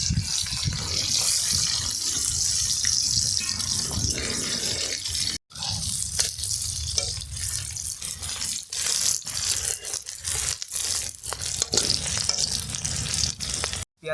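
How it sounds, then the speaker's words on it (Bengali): Onions fry in a pan for a mutton curry, giving a steady, loud sizzle with wet crackle throughout, broken briefly by a short cut and some stirring scrapes, with no talking. "এবার আমরা পেঁয়াজটা দিয়ে দেবো"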